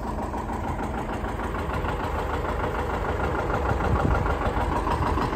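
A John Deere 730 tractor engine drones steadily while pulling a John Deere AW wheel disc through soil, a continuous close, even rumble with a slight knocking pulse and no talk.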